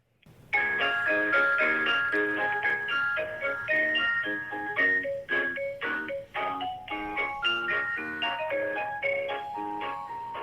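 Tinny electronic telephone hold music plays alone, a bright chiming melody of short repeated notes with a steady beat, clear and continuous.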